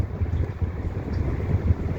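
A standard electric fan runs steadily, pushing air straight at the microphone, producing a constant low, rumbling wind buffet with no speech.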